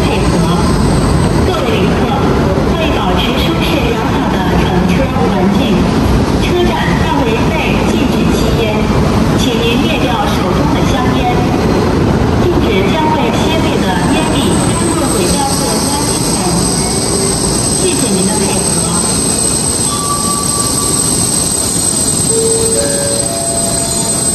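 A loud, steady rumble fills the interior of a moving, crowded train bound for Shanghai, continuous roar throughout with faint voices mixed into the noise.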